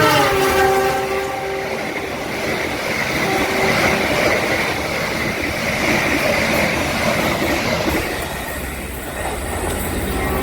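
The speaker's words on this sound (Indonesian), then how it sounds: "kita tunggu aja kereta api Argo Bromo Anggreknya melintas langsung di stasiun" The Argo Bromo Anggrek express train roars past at close range through a station in Indonesia, horn sounding at the start over heavy rumbling and clattering wheels, with some high metallic squeal as it goes by.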